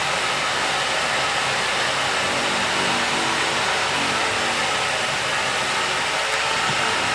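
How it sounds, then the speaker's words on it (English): A drill runs nearby late at night, giving a steady, continuous whirring roar that stays loud and unbroken throughout, with no voices over it. "Who's drilling this time of night?"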